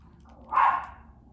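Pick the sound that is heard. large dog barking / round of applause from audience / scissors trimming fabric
large dog barking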